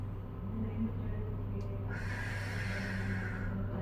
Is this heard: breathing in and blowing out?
yes